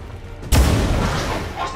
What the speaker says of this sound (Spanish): Voy a soltarle un disparo a este, así de gratis, para ablandarle un poquito más